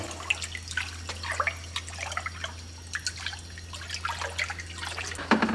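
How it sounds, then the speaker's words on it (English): Dissolved nutrients are stirred into a hydroponic water reservoir, giving soft sloshing, dripping and trickling water sounds in quick irregular bursts, close and fairly quiet, with nothing said. "we're gonna go ahead and add this to our reservoir. Then we're gonna stir this up."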